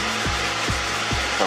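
Close, steady back-and-forth rubbing strokes of hand sanding plastic headlights on a Ford Transit Connect Mk1, repeating in an even rhythm.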